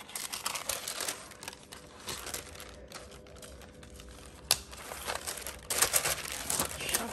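Hidey Swap foil crinkles and rustles as it is pressed over craft paper, a close, dry, continuous crackle with sharper bursts near the end.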